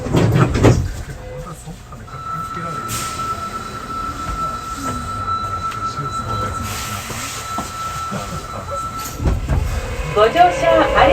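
A Hankyu 8300 series train runs between Tenjinbashisuji 6-chome and Tengachaya, a loud steady rumble of wheels on track with a sustained high squeal and clattering bursts at the start and end.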